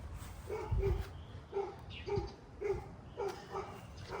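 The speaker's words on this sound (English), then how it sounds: "The neighbor's dog barking." A neighbor's dog barks repeatedly at a steady pace, a series of moderate woofs heard from some distance across a garden, with no other voices.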